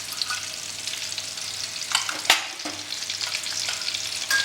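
Whole cloves and cardamom sautéing in hot oil in a pan for a royal egg korma, a steady close sizzle with a few sharp stirring scrapes and clinks partway through.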